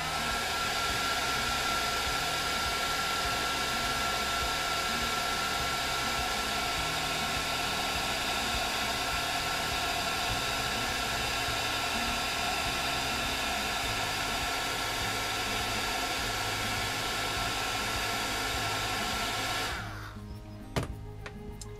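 A heat tool melts embossing powder on a stamped seahorse image, blowing as a loud, steady, close-up whooshing hum for about twenty seconds before cutting off, followed by a few faint clicks.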